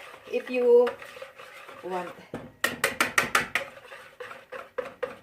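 Puto batter mixed by hand in a bowl, with a series of rapid scraping, clinking strokes of a utensil against the bowl in bursts, alongside a person talking.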